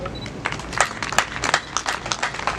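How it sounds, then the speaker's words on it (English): Audience at a university inauguration ceremony in Kabale breaks into applause, a steady patter of many hands clapping at moderate distance with uneven swells over a couple of seconds, no talk over it. "Doesn't it deserve hand clap?"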